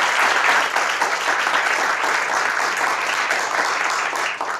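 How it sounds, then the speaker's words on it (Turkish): Applause from an audience for tango dancers on a stage show, steady dense clapping that fills the whole stretch without a break, loud and close. "Alkışlarınızla kendilerine biraz cesaret verelim."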